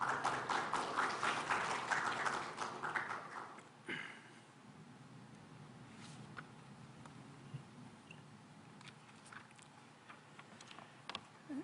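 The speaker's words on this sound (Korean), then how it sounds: "예, 박수로 청해 듣겠습니다." Audience applause welcoming the next speaker at a Korean science and technology forum's founding ceremony, louder at first and then thinning out into scattered claps.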